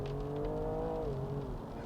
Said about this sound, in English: The engine notes from this S55 engine is quite sonorous.